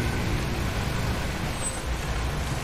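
A car engine in the video game Far Cry 2 rumbles steadily nearby, a low continuous drone of moderate loudness with no voices over it.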